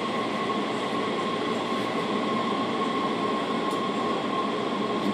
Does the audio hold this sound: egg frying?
no